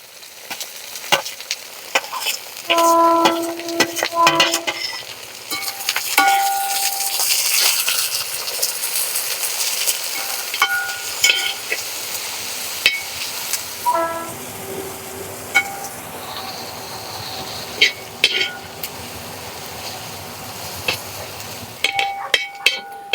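Sliced onions fry with coconut pieces in a pan for a Kerala crab roast. Sizzling and spatula clatter come close up, with sharp scraping clicks and a loud stretch early on that eases into steady frying.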